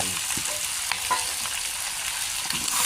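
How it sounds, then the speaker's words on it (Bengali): Onions sizzle and crackle as they fry in hot oil in a wok with goat liver, a steady close hiss with faint stirring clicks throughout. "ভাজা হয়ে আসার পরে দিয়ে দিলাম পেঁয়াজ"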